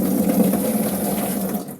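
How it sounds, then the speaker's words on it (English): Water is poured into the bottom of a humidifier tank, a brief continuous splashing gush that fills the moment and tapers off at the end, close and fairly loud. "put a little bit of water in the bottom"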